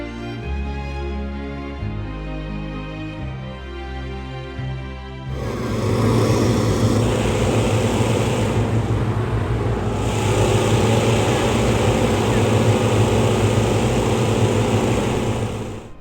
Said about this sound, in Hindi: गुब्बारों में हवा भरी जा रही है